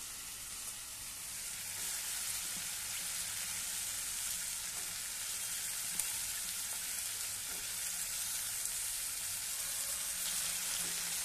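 Chopped potatoes fry in hot oil for a Marathi peas-and-potato curry, giving a steady, even sizzle that continues without pause, with a few faint clicks of a utensil and no talking.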